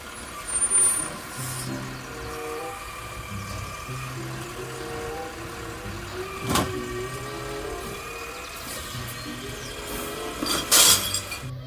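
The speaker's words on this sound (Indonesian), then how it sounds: "Wow, ada truk sampah," A garbage truck rumbles along nearby with a low engine drone, broken by a few hissing air-brake bursts and metallic clinks and rattles.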